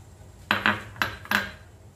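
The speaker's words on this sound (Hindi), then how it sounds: "जार में हम पहले नारियल डाल देते हैं" Pieces of fresh coconut dropped into a blender jar for chutney, giving four quick hard clattering knocks close to the mic in a quiet kitchen.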